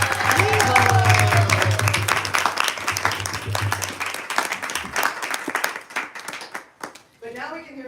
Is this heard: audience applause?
yes